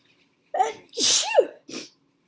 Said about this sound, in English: Something's making me sneeze here.